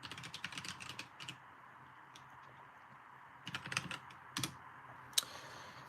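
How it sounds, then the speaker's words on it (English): Typing on a computer keyboard: quick bursts of close clicking keystrokes separated by short pauses, with a single sharper tap near the end, no voices. "I'll type it in the chat for you so you can read it off"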